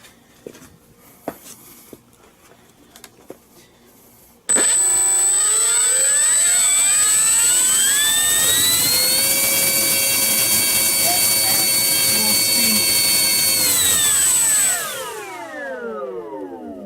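An Eleven Hobbies Bearcat RC plane's electric motor on a modified 4S ESC starts abruptly after a few quiet clicks, spools up to a loud steady whine, holds for about ten seconds, then winds down.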